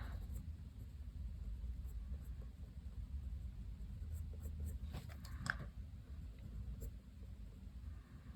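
Colored pencil shading a large mandala on paper with a hard Colorya pencil, a soft continuous scratchy scraping that goes on steadily over a low background rumble, with brief louder strokes near the middle.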